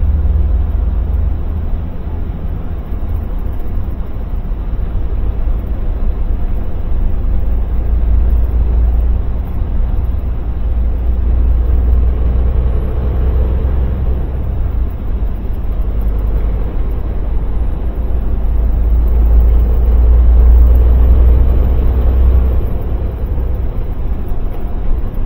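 Steady low rumble of backed-up road traffic, a continuous droning wash of engines with no distinct passes, heard close and loud without talk.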